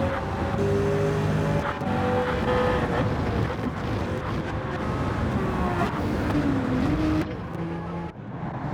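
Race cars in a Challenge Series circuit race, a BMW Z4 among them, roar past one after another with rising and falling engine notes and overlapping revs, loud and close, before the field thins and the sound drops away at the end.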